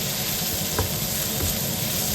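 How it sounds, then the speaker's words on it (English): Pancit noodles sizzle steadily in a hot pan during home cooking of Filipino food, a close, even frying hiss with a couple of faint clinks, no voices over it. "Start cooking the pancit now"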